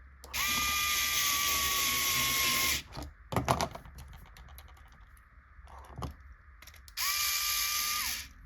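Screws being driven home with a ratchet during a kit car build, final cross-torque of small M3x8 countersunk screws on the pod plate: two sustained whirring, clicking bursts at start and end, with a few sharp knocks between, no talk.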